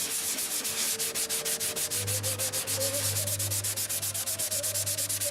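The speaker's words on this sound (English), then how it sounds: "you can see how quickly this sands because I'm not sanding out any brush marks" Rapid, rhythmic strokes of sandpaper rubbing back and forth across a hard painted surface, close and steady, with a low hum underneath.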